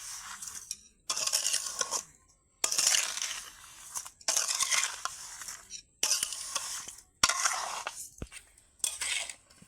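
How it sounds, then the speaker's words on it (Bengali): Melting sugar for ash gourd murabba is stirred in a pot, a series of repeated scraping, gritty stirring strokes close up with brief pauses between them. "আবারও এটাকে ঘন ঘন বেশ কিছুক্ষণ নাড়বো"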